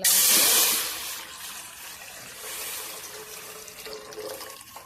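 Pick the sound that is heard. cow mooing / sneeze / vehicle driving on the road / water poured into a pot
water poured into a pot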